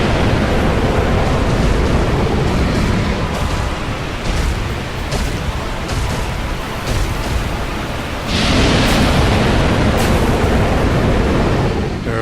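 Calamity dragon's fire breath in Dark Souls, a loud rushing roar like blasting wind and surf that surges, dips briefly around the middle, then swells again with crackling bursts.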